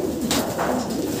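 Soft throaty cooing of a racing pigeon in a breeding loft, two or three rolling coos close by, fairly quiet with no talk over them.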